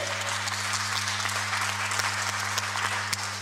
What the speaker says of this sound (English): anytime we feel like clapping, please clap very well. Not just one clap. 2 claps, several ones